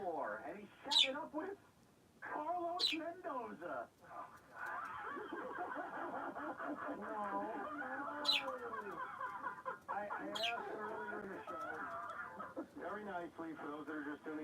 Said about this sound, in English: Listen, you hear her chirping?